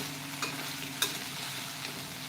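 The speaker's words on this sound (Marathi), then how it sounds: "भेंडीची भाजी आता शिजत आलेली आहे मऊ झालेली आहे थोडी आणि मसाल्याचं कोटिंगसुद्धा छान आलेलं आहे त्याला लो फ्लेमवरती आपल्याला भाजी शिजायला ठेवायची आहे" Okra masala (bhendi) cooks in a pan on a low flame with a steady, even sizzle. Now and then the scrape of a stirring utensil cuts through, and nobody speaks.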